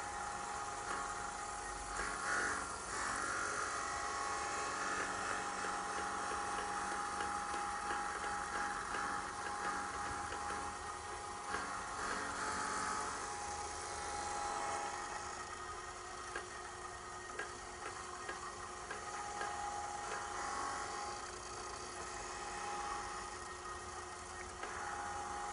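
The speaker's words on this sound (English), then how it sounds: "This cycle will actually put a bevel on it, a V bevel, so that will fit into the groove of the frame" Optical lens edger machine cutting a V bevel around the edge of an eyeglass lens, a steady whirring mechanical drone with a faint hum, continuous and even throughout with no speech.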